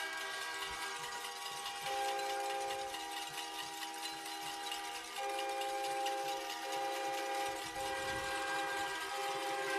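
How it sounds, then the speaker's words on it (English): Air horns blow in the stands at a high school playoff football game, Anderson County at Macon County: long, overlapping blasts that hold steady and shift pitch a few times, sounding fairly distant over the crowd. "And now the air horns have started."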